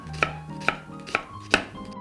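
Four evenly spaced knife chops slicing onion on a cutting board, crisp and close, with no talking.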